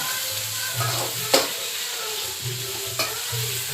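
Onions wilting in well-heated oil for chicken curry, a close hiss of frying with a few sharp spatula knocks and intermittent stirring, no one speaking.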